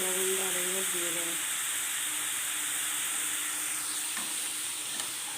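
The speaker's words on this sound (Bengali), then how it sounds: "ভালো করে নাড়িয়ে" Potato and ridge gourd stirred in a hot pan make a steady sizzling hiss; a voice speaks briefly over it at the start, then the frying continues alone.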